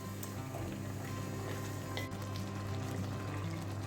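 Red wine with a splash of port reduces in a pot for beef bourguignon, giving a steady soft bubbling sizzle at low level with faint clinks, and no talk.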